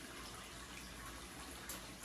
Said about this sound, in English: I'm dripping water and I'm leaking water out of my system